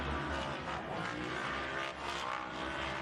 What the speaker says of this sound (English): I can hear some of the 4400 cars lining up.